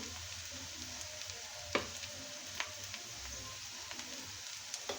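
Chillies and turmeric powder sizzle steadily in a pan for bhuna khichuri, a soft continuous frying hiss with a few sharp pops and scrapes scattered through.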